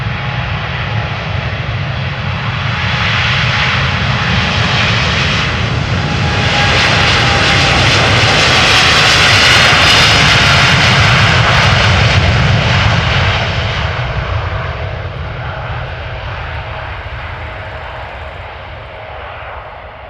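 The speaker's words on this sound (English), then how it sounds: "KLM flight 757, 787-10 Dreamliner, 3 years old, first flight November" KLM Boeing 787-10 Dreamliner jet engines at Amsterdam Schiphol spooling up for takeoff, a loud, steady roar that swells toward the middle and then slowly eases, heard alone without voices.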